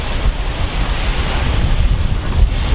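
Waves wash onto a beach at Fuengirola on Spain's coast in a continuous roar of surf, loud and close, mixed with buffeting wind noise against the microphone and no voices.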